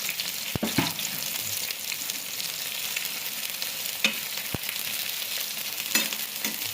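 Garlic and chillies fry in hot oil for a Kathiyawadi tomato garlic chutney, a continuous dense sizzle with a few sharp stirring knocks of a spoon against the pan.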